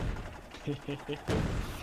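In the Factorio video game, a tank's main cannon fires at blue biters, giving a few rapid, evenly spaced muffled thumps and a heavier blast at the end over a dense, noisy battle din.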